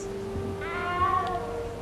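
A small cat in Hogwarts Legacy gives one drawn-out meow, rising and then falling, heard clearly and up close over a low steady background hum.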